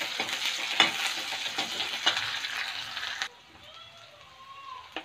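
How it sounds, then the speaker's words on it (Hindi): Onions frying in oil with red chilli and bay leaf give a close, busy sizzle with a few sharp clicks, then drop abruptly to a much quieter background near the end. "प्याज को हम हल्का ब्राउन होने तक पहले भून लेंगे।"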